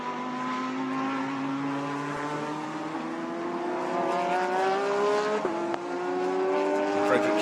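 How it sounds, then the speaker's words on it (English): Lamborghini GT race car, number 666, running over a crest in a Blancpain GT Series Asia qualifying session in Thailand; a steady engine drone with rising pitch, fairly distant, holding through the clip alongside commentary. "up over the crest in the 666 Lamborghini from Vincenzo Sospiri Motorsport"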